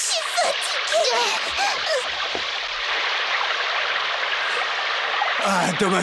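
River water rushing and splashing in a French children's cartoon, a steady full wash that runs throughout, with voices calling over it.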